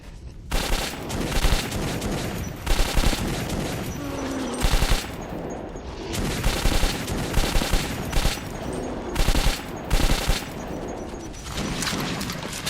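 Dense, continuous gunfire in the post-apocalyptic shooter Metro 2033: heavy automatic volleys with recurring louder bursts and booms every second or so, sustained for the whole stretch.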